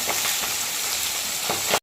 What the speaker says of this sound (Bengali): এখানে জিরে একটু ফোড়ন দিয়ে আলুগুলো ভাজা বসিয়ে দিয়েছি